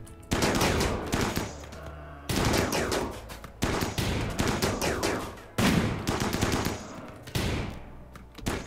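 Gunfire erupts in the colony game RimWorld as several rapid volleys of shots crackle in four distinct clusters, each a loud burst of overlapping reports that tails off before the next one starts.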